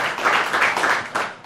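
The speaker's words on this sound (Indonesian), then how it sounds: "Tepuk tangan buat Menteri Koperasi Republik Indonesia" Applause for the Indonesian Minister of Cooperatives rises as a short burst of clapping from a crowd. It is moderately loud and fairly even across the moment.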